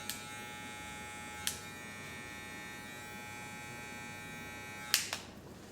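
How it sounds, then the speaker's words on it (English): A barber's electric trimmer runs with a steady, even buzz throughout a low skin fade haircut, with brief clicks and scraping touches where the blade meets the hair. "A detailer or a trimmer."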